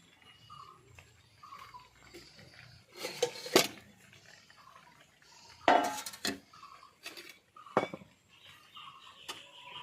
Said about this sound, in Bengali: এই কাঁটা চামচ দিয়ে আমি পাস্তা তৈরি করে নেব।